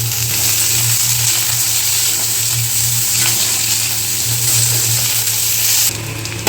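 Chopped onions hiss and sizzle steadily in hot oil in a pan, following fried garlic, for a Bengali duck egg curry. The frying is loud and close, with no talk.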